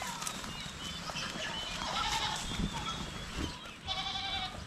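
Goats, including pregnant does, bleat on a farm in a few short calls, the clearest near the end, fairly quiet against a soft background of rustling and other animal noise.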